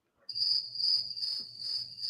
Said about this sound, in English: Speaking of crickets